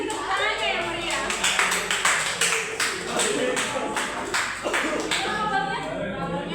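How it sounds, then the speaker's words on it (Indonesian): An audience claps for a presenter at a live presentation, giving a lively burst of hand claps with some individual sharp claps standing out, while a voice talks over the applause. "Kita kasih tepuk tangannya yang meriah."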